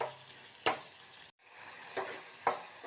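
Tomatoes sauté with salt in a pan, giving a soft continuous sizzle broken by a few distinct stirring scrapes, with a brief dropout partway through.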